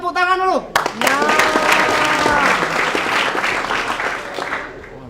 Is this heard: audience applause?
yes